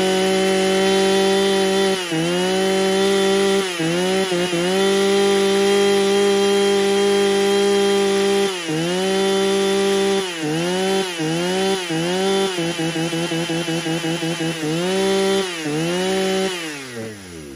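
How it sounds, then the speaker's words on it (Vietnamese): Husqvarna 266XP chainsaw engine running close and loud for the whole stretch, idling steadily then revving up and dropping back in repeated bursts, with no talk over it. "em vô phần test nổ cho anh em nghe tiếng máy của nó ha"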